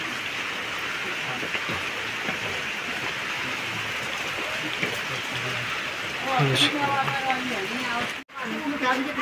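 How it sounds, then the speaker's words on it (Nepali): Steady rain falls on a cold mountain trail on the way to Pathibhara, a constant broadband patter throughout, with voices and rustling movement near the end. "पानी पनि पर्यो"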